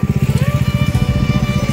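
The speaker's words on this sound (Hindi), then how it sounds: "तो अभी सुपर बाइक सब सब आ रहे हैं भाई साहब" Superbikes, a Kawasaki Ninja H2 and ZX10R, ride along a road between Assam and Agartala, producing a loud, close, rapidly pulsing engine rumble with a rising whine layered over it, steady for the whole moment.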